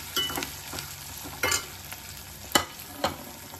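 Tomato frying in hot oil while being stirred for a gongura egg curry, with a steady soft sizzle and several sharp scraping clinks of the spoon against the pan, close and alone with no talk.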